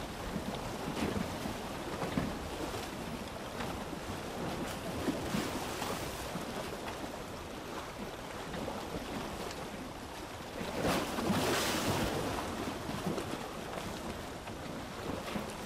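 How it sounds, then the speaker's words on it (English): Waves and wind around a drifting raft on the open Pacific near cliffs, a steady broadband wash of surf with gusting wind buffeting the microphone, swelling louder around the middle, no voices. "And these waves are pushing the raft towards the cliffs."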